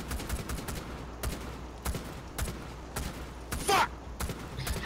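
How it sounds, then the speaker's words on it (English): Scattered bursts of gunfire in Rainbow Six Siege, a tactical shooter game: repeated sharp shots in uneven clusters, fairly close, with a brief higher-pitched whine near the end and light voice chatter underneath. "Make a bunch of noise by shooting indiscriminately"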